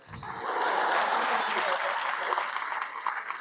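Audience at a medical exam-prep event in Delhi bursts into applause, a dense clatter of clapping that swells quickly and holds steady, with voices mixed in.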